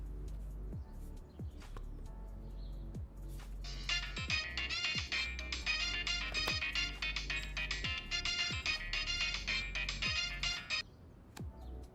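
Mobile phone ringing in a Chinese drama dubbed into Hindi, a bright repeating electronic ringtone melody that starts after a few seconds and plays loudly and steadily for about eight seconds before cutting off, with no talk over it.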